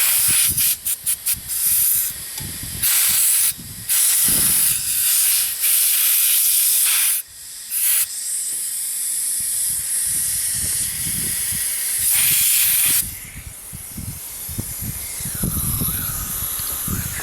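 Compressed air bursts from a spray nozzle while a filthy computer is cleaned out, loud close hissing in long and short blasts with brief gaps, ending in a steadier blowing hiss over faint clattering.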